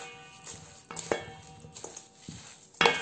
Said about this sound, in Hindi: अब इसको बहुत अच्छे तरीके से आपने मिक्स कर लेना है।